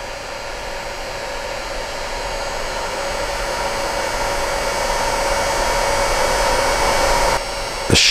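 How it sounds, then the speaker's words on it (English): Heat gun running on a low fan setting, warming the bent plastic of a custom battery tray for an RC rock crawler: a loud, steady, close whooshing blower roar holding constant for several seconds before a brief shift at the end. "I'm gonna put the heat on the outside of the bend. With a low fan so it doesn't blow this thing around."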